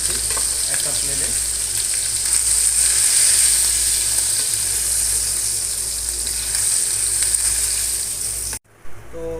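Fish pieces frying in hot oil for a Bengali masala fish curry, a loud steady close sizzle with bubbling crackle that runs unbroken and then cuts off abruptly near the end, with no talking.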